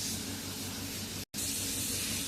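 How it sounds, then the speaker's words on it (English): The spray gun of an AYJ-X13B hydro dermabrasion facial cleaning device hisses in a loud, continuous fine mist, cut off briefly for a split second before resuming at the same steady level, with no talk. "We can use 2 ways for this spray gun."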